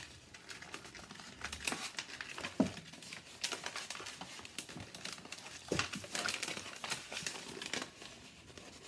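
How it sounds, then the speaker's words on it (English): Backing being peeled off adhesive contact paper while lining a drawer, heard as close, irregular crinkling and crackling with soft tearing bursts throughout. "You never want to peel off too much of this backing at once because it becomes a big adhesive mess."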